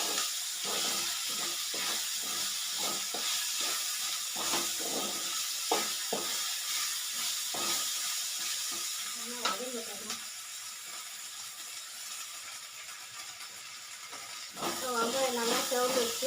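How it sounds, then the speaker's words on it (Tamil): Onions frying in a pan for a Tamil potato kulambu, a constant soft sizzle and hiss with occasional stirring taps, while someone talks over it. "வெங்காயம் நல்லா செவந்துச்சு."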